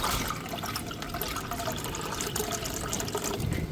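Water pours and splashes in a steady, fairly loud rush while rabbits are tended in their pens, continuous with no speech.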